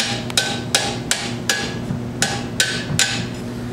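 Hammer strikes land on a metal crimping stage, about eight sharp, ringing blows in a slightly uneven rhythm, close and loud with no talk.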